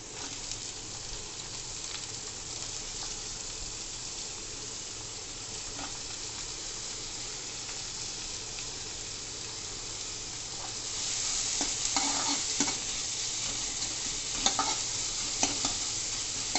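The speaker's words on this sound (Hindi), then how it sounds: "कड़छी मैंने ली तो घुमाना चालू कर दिया।" A ladle stirs onions through hot oil in a pan, a steady frying sizzle with scraping strokes, growing louder and busier toward the end, with no voices.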